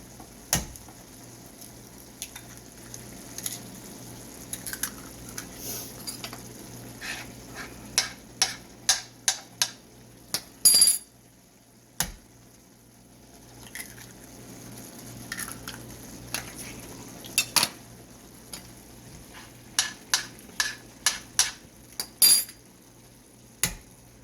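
Eggs are cracked one by one against a pan and dropped onto a bed of frying ground beef, producing clusters of sharp close taps and clicks over a faint steady sizzle, with no talking.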